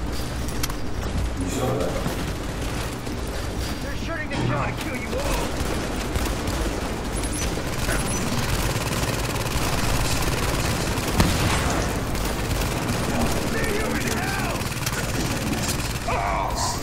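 Dense bursts of gunfire and rapid automatic shots from the video game The Division continue throughout, with booms mixed in and voices talking over the action.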